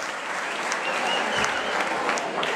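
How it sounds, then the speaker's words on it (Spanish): An audience applauds a young female soloist at a choral concert, a steady wash of clapping heard close and fairly loud throughout. "Aplausos para la primera solista, Andreína."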